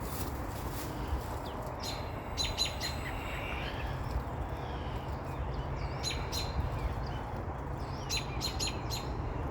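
Faint birds chirp in short scattered bursts over a quiet outdoor background, a few calls clustering near the end.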